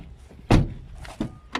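A Seat Leon car door, just fixed after a faulty lock module kept it from opening outside, thunks open with one loud clunk and two fainter latch knocks after it, close by with no talk.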